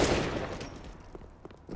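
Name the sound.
gunfire, headshot, from video game Counter-Strike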